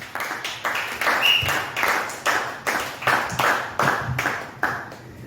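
A church congregation claps in a steady, rhythmic beat, about a dozen loud, even claps per few seconds, with shouts and voices mixed in among the clapping.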